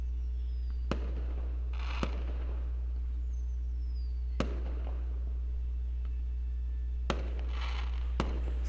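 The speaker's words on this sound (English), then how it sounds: "Soon I heard the sounds of the first rocket making its way into the night, after which it exploded in a pattern of colors." Fireworks rockets bursting in the visual novel game Angels With Scaly Wings: five sharp, distant-sounding explosions at irregular intervals over a steady low hum, with faint whistling trails between them.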